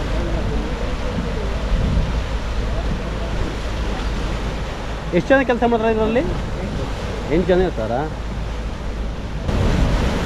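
Loud ocean waves roar and crash near a capsized deep-sea fishing boat at Bhatkal, a constant heavy surf rumble while a man asks a question and another answers over it.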